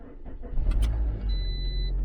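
A car with a weak battery cranking over and catching, a short low rumble building up close by, followed by a settled idle with a thin whine.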